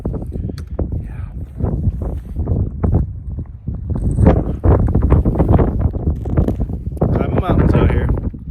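Wind gusts buffet the microphone on a mountain hike along the Pacific Crest Trail, a steady, loud rumbling roar with a person talking over it throughout.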